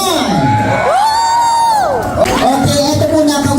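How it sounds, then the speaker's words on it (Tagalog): A crowd at a restaurant soft opening shouts and cheers loudly and close by, with whoops and children's voices mixed in, a long rising-and-falling shout swelling in the middle before the noise settles into steady clamour. "Isang malakas na sigawan!"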